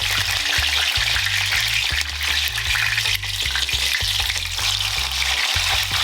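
Breadfruit tostones fry in hot oil, making a loud, dense, steady sizzle with a low hum underneath and occasional knocks, and no voices.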